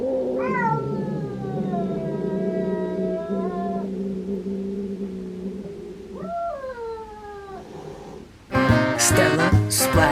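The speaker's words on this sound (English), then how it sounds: "He's really growling." An agitated cat hiding in a cat tower lets out long, low, wavering growls that rise into drawn-out yowls, ending in a louder, harsher burst of caterwauling.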